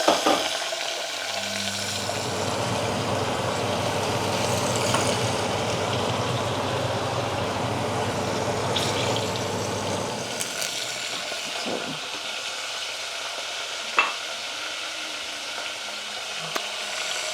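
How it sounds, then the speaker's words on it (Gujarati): Fresh guar beans frying in hot, spattering oil in a covered pan: a loud, steady sizzle that drops away after about ten seconds, leaving quieter crackles and a few clicks, with no voices. "ચાલો અને ગવાર નાખીએ અને ઢાંકી દીધું કેમ કે તેલ બહુ ઉડે છે"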